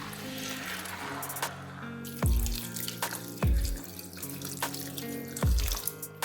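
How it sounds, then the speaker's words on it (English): Water pours from a tap into a cooking pot of rice and beef stock for jollof rice, a steady running splash with several short drips and dips in flow, close and alone. "I'll add it into the pot and top it with water"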